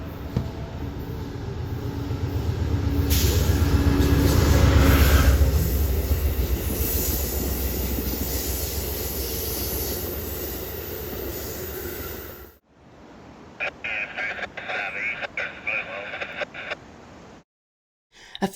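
Amtrak's westbound Cardinal passenger train passes on the New River Subdivision, led by unit 130 in Phase 2 paint. A heavy rumble builds to a loud peak, then gives way to a quieter stretch of clickety-clack wheel rhythm.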